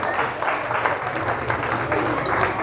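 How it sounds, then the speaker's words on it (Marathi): An audience at a Marathi Home Minister game show claps in a steady, rhythmic burst of applause, fairly loud and continuous throughout, with some voices mixed in. "जोरदार टाळ्या"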